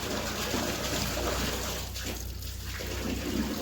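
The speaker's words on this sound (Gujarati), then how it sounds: "આટલું પાણી જાય રિટર્ન પાણી જાય છે" Return water from a farm irrigation valve rushes out in a steady, continuous hiss that stays strong and close for the whole stretch, with no talking over it.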